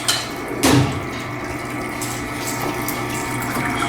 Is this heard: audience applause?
no